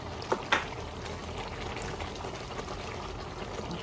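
Liquid and ingredients pouring into a pot of Filipino menudo, a soft continuous splashing pour with two brief sharper splashes near the start, close by and steady with no talking.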